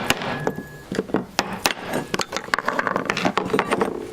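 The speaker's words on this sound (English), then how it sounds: "And I'm tapping around it with a screwdriver to press it out." A screwdriver taps around a rear main seal to press it out of an aluminum housing on a BMW E30, giving sharp, irregular metallic knocks and clicks close up with no talking.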